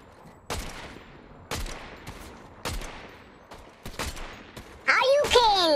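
Gunfire in the Fortnite video game: several sharp shots at roughly one-second intervals, then a louder burst with a ringing tail at the end, heard over soft background sound with a player talking.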